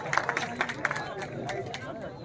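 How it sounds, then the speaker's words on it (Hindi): At a bhajan competition prize giving, the crowd claps in scattered bursts amid general murmur while a person talks over the noise. "कृपया इनके लिए तालियां बजाएं।"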